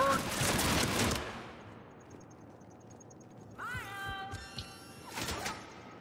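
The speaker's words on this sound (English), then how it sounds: "That's a sniper round, isn't it?" A sniper rifle shot in a Mass Effect 3 firefight cracks out as a loud burst, then fades into quieter combat noise, with a few further sharp shots and synthetic chirps following.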